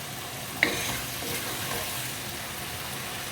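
Masala with three spoons of chili powder cooks in a pan over medium gas, a steady low sizzle opening with one sharp metallic tap of a spoon.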